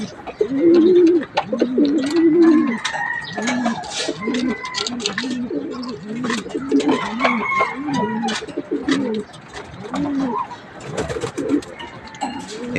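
Pigeons cooing in a loft where a chick has just hatched, with loud, close, repeated throaty coos in rhythmic phrases, and a voice talking faintly in the background.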